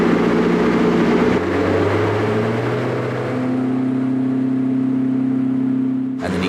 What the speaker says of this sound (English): he gradually started pushing the engine further and further up the rev range